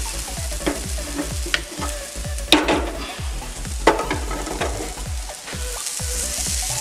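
Cooked squid frying in a pan for a Kerala-style koonthal roast, with steady close sizzling and rhythmic scraping stirs of a spoon repeating throughout, a few louder clatters standing out.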